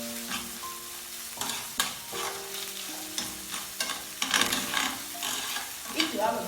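Spices frying in a pan for a Cameroonian fish roll filling, with a soft sizzle broken by several sharp spoon scrapes and clinks against the pan, close-up and moderately loud.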